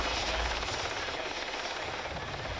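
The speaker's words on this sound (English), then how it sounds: "This is a Westland Whirlwind from the search and rescue flight at RAF Valley in Anglesey." Westland Whirlwind search and rescue helicopter at an air show, its engine and rotor giving a steady, rumbling drone that holds at a moderate distance throughout, with no voices.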